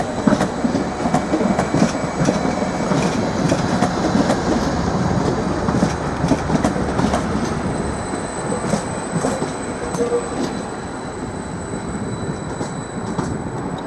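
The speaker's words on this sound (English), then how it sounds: "we've got a couple of Class 755 FLIRT units arriving to platform 2 from London Liverpool Street" Class 755 FLIRT multiple units pulling into a platform at Norwich station, a steady loud rumble and rattle of wheels on rails with brief high squeals, sustained throughout with no talk.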